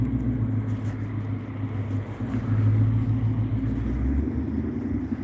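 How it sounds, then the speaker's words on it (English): A car on a road, its engine rumbling steadily at moderate distance and swelling slightly as it nears, with no talking. "I'm trying to listen to this car coming up."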